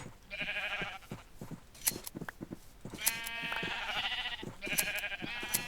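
Sheep in a Minecraft farm bleat several times in short wavering calls, a few overlapping, close and clear over light clicking game sounds.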